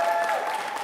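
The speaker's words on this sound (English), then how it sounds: "Do you mind giving them a round of applause?" A church congregation gives a short, dense burst of clapping, steady and fairly loud for under a second.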